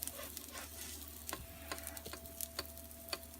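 Paleo sweet potato cakes fry in a pan over medium heat with a quiet, close sizzle punctuated by sharp little pops and spatters, plus a faint steady background tone.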